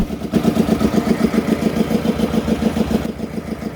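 A fishing trawler's engine chugs steadily nearby on the Bay of Bengal with a rapid, even throbbing rhythm, loud and continuous throughout.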